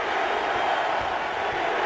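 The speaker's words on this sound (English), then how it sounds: "this Steelers crowd making it difficult on Tavares Jackson right now" Steelers home stadium crowd at an NFL game against Seattle, a dense continuous roar of many voices, loud and even across the short stretch.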